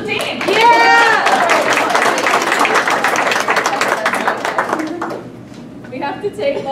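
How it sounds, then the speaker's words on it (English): A convention panel audience applauds the team, loud crowd clapping mixed with cheering shouts and talk that continues throughout, easing slightly toward the end. "we'll get a round of applause for the team"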